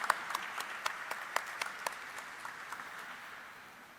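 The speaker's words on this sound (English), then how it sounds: "Please let's have a huge round of applause for Mr. Girdhar and Mr. Fernandez." Audience applause at a corporate event for Krssna Diagnostics, a dense wash of many hands clapping with sharp individual claps standing out, steady at first and gradually thinning and fading toward the end.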